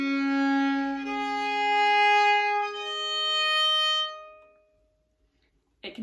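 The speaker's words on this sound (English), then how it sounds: "it's most commonly played by drawing a bow across the strings." A bowed Baroque violin plays sustained, singing notes with rich overtones for about four seconds, then silence, followed by a brief soft sound near the end.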